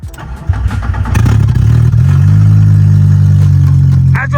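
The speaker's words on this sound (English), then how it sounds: "All right, let's see if old girl fires up." A Mk2 GTI fitted with a swapped 07K five-cylinder engine cranks over and catches, then settles into a loud, steady, close-up idle with a deep, even drone.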